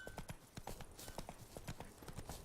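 Horse galloping in The Witcher 3 video game, a fast steady clip-clop of hooves, fairly quiet, with faint talk underneath.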